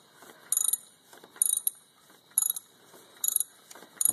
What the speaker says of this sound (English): this is the bottom screws on the air conditioning compressor, and this is what I'm tightening now.